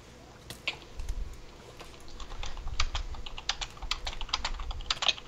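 Rapid, irregular clatter of keys on a computer keyboard, close and fairly loud, typed in quick bursts over a low background hum during a Minecraft Hunger Games match.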